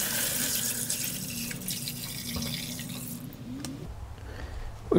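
Water pours steadily from a tap into a Keurig coffee maker reservoir, a close rushing splash that thins out near the end, leaving a faint hiss and a small clunk.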